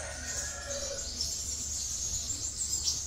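A sunbird sings in a cage, giving continuous bright high twittering phrases close by over a low hum, with no talking.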